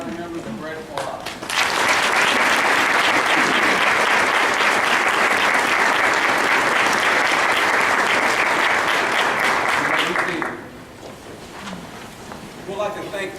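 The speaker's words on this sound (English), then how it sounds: "all give our National Junior Honor Society members a great applause" A school audience at a National Junior Honor Society induction ceremony applauds the new members: a loud, full burst of clapping for about nine seconds, framed by brief talk before and after.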